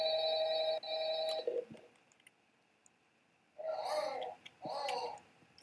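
Phone ringing in a Roblox FNAF co-op game: two bursts of electronic ringing at the start, a quiet gap, then two more rings near the end, heard alone without talk.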